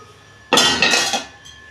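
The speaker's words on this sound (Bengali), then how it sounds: "ঢাকনা খুলছি" Lid lifted off a pan of chilli soybean, one loud metallic clank followed by a brief burst of hissing steam that fades away.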